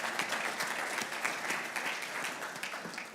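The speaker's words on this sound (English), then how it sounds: "a round of applause for Mr." Steady audience applause fills the room at an executive panel event, a dense, even roll of many hands clapping with no talk over it.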